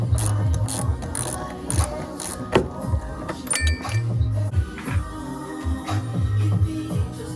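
A ratchet wrench works a stuck bolt loose on a Fox-body Mustang air shock, its rapid clicking arriving in repeated short bursts with metallic clinks in between, close and fairly loud.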